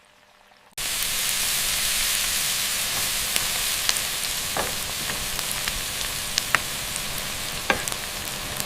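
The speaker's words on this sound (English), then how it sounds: "Rich sauce pours into the sizzling pan, a vibrant, flavorful addition, building anticipation for the meal." After a brief quiet moment, a loud, steady sizzle bursts up as sauce pours into a hot pan, with occasional pops and crackles continuing throughout.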